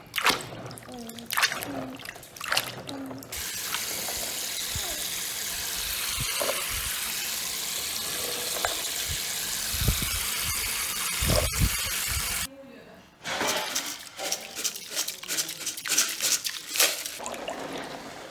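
Wild berries (karanda, mamuang hao manao ho) are rinsed of dust in water, with steady running water and sloshing, then intermittent splashes and drips while a person talks at times.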